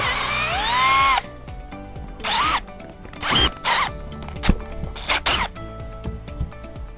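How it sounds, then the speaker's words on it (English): A power drill removing screws while replacing a tire on a Companion whines in several short bursts, spinning up and stopping, with rattling and handling noises in between and a higher whine at the start. "And just for speed, use my trusty drill."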